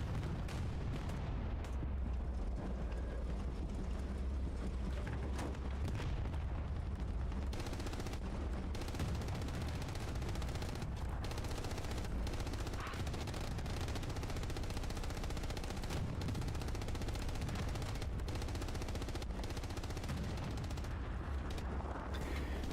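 Dense gunfire and explosions during a competitive multiplayer shooter match, with a rocket launched among continuous overlapping shots and blasts filling the whole stretch at steady high loudness, no voices.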